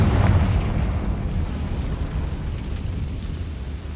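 A Confringo spell explosion in the Hogwarts Legacy video game, a heavy low boom at the start that fades into a long rumbling decay, fairly loud and close.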